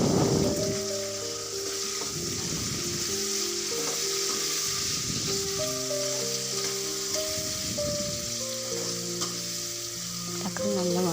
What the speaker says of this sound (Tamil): தக்காளி நல்லா வதங்கி தக்காளி நல்லா சுருங்கணும்